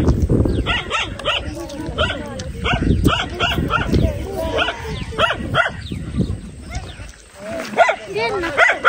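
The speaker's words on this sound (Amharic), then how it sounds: "ውሻ እኮ እያስፈራራኝ ነው ያለ" A dog barks repeatedly in short bursts outdoors, fairly close, with yips and whimpers mixed in while people talk over it.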